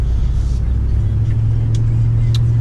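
A pickup truck engine idles steadily while warming up on a bitterly cold Minnesota day, a close low hum with a rising steady drone, joined by a few faint clicks.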